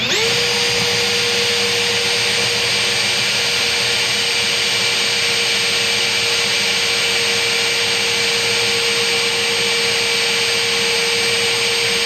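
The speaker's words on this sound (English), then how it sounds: "dull drill bit." A power drill with a dull bit runs nonstop during a Minn Kota trolling motor installation, giving a loud, steady, high-pitched whine with no pauses.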